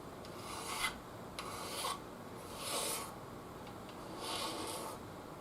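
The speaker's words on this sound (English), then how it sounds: "to scrape the binding, get an extremely sharp blade, extremely sharp," A very sharp blade scrapes along guitar binding in four slow, rasping strokes about a second apart, close and fairly quiet, with brief pauses between strokes.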